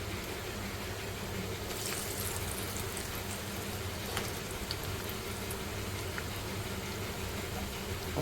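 Gram flour pakora fries made with potato and onion frying in hot oil: a continuous, even sizzle and crackle with faint pops, steady throughout and without voices.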